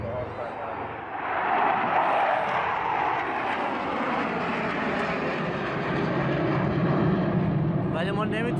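An airplane engine roars at the Kish air show, a loud, steady drone that swells after the first second and stays strong throughout, with people talking underneath.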